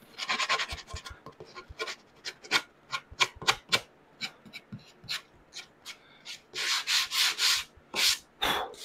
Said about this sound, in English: We're going to hand sand these down again on the sides